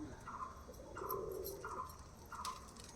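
White giribaz pigeons in a loft coo in soft, repeated rounded calls, roughly four evenly spaced phrases, fairly quiet over a faint background hiss.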